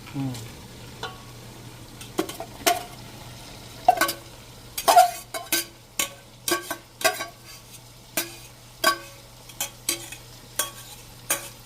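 Dry and green onions sautéing in a pan, with a steady low sizzle under a string of sharp spoon-on-pan scrapes and knocks as they are stirred, close and clear.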